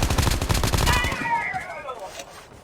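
Rapid automatic gunfire in the mobile shooter Call of Duty Mobile, a loud dense burst of shots for about a second, then ringing tails and softer game sounds fading out.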